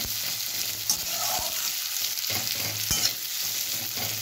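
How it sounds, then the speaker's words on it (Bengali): Black cumin seeds frying in a wok with onion and other ingredients, a steady close sizzle broken by a few soft scraping stirs, with no voices. "এই সব কিছুকে আমি একসাথে কড়াইতে খানিকক্ষণ ভাজা করে নেব।"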